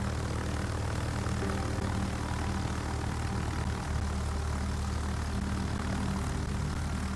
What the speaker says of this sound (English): We're going to be launching as many planes as possible, as we can.